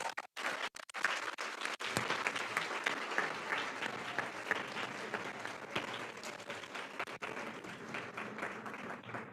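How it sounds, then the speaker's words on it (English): An awards ceremony audience applauds volunteers with sustained, fairly distant clapping from a crowd that holds steady for several seconds before thinning out. "Please give these volunteers a round of applause."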